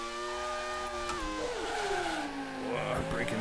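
A racing car in Grand Prix II drops gears under late braking and then whines and warbles as it spins out, its engine tone sliding up and down. A voice talks over it.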